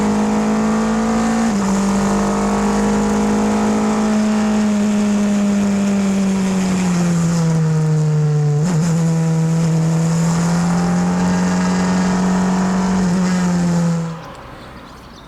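A Formula 2.0 single-seater racing engine at Magny-Cours drones loud and close for a sustained stretch, its pitch dipping and rising with gear changes and throttle, before it suddenly cuts away near the end.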